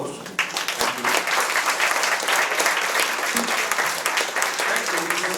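Audience applause after a talk at the Bengal Club, a dense, steady clapping from a sizeable crowd holding at an even level from start to finish with no voices standing out.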